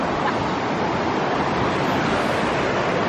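A flowing mountain stream in Fulufjället National Park, Sweden, heard as a steady, loud, broadband rush of water without pauses, close to the microphone and with no voices.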